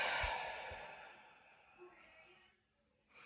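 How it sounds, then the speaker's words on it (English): A long, slow exhale out through the mouth during a relaxation breathing exercise, soft and airy, fading gradually over about two and a half seconds, followed by a faint catch of breath. "breathing in through the nose for 4 and then out through the mouth for 8"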